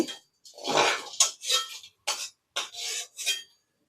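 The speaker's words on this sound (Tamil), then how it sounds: "துணி வச்சு இந்த மாதிரி துடைச்சிட்டு நம்ம வறுக்கணுங்க." A pan wiped with a cloth after roasting spices, a series of rough rubbing strokes in uneven bursts separated by brief silences, close and fairly loud.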